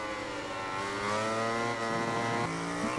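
A rival Suzuki racing motorcycle in a wet MotoGP 19 race runs close behind, its steady high-revving engine whine holding a tight pitch under the near rider's own engine drone, dipping briefly near the end before rising again.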